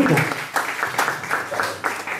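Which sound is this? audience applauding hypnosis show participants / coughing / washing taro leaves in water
audience applauding hypnosis show participants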